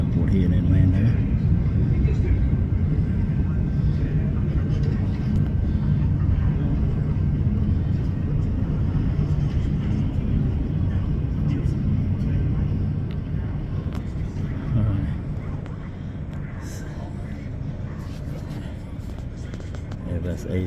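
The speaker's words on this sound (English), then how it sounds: "Delta Airlines taking off from Hartsfield-Jackson International Airport here in Atlanta." A Delta Airlines Airbus A350 takes off at Hartsfield-Jackson International Airport in Atlanta, giving a steady, loud low jet roar that eases slightly toward the end, heard from a distance with outdoor background noise.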